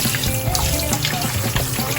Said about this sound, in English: Immediately run this under cold water.